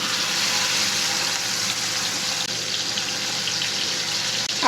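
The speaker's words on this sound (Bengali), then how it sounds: "গরম হয়ে গিয়েছে, এখন এই যে মাছগুলো আমি দিয়ে দিব।" Fish coated in turmeric, salt and chili powder fries in hot oil with a loud, steady broadband sizzle that holds evenly throughout.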